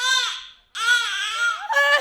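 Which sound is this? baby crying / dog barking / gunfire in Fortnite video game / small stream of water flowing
baby crying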